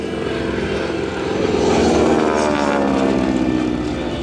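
A restored T-6 propeller aircraft flies past at an air show meeting in Guiscriff, its loud engine drone swelling to a peak and easing off over several seconds, with no talking.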